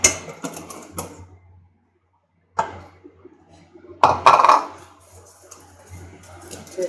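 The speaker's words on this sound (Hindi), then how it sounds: "अब जो हमारे ड्राई इंग्रेडिएंट्स है हम थोड़ा थोड़ा करके इसमें मिलाएंगे और विस्क करते जाएंगे कि इसमें लम्स वगैरह ना पड़े" A whisk clinks and taps against a bowl while dry ingredients are mixed into batter, coming in short, irregular bursts of clicking with quiet pauses between them.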